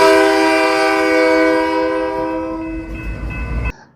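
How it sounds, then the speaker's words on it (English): A train running on a track right behind a house sounds a long, loud sustained horn chord, then the horn fades into rumbling wheels and clatter before cutting off. "The back of it goes right up to the train track."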